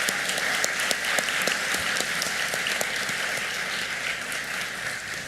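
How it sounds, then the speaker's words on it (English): A crowd applauds steadily for several seconds at a medical school class day ceremony, dense clapping with a few sharper claps standing out. "Can we get another round of applause for our military members?"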